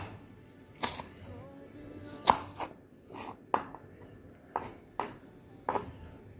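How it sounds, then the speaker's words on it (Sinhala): Onions being finely chopped on a board, a series of sharp knife strikes spaced about a second apart, close and clear over a quiet background. "මෙන්න මේ විදිහට අපි පොඩියට ලුණු කපා ගන්නවා"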